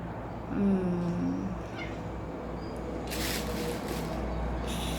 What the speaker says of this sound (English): My cute cats.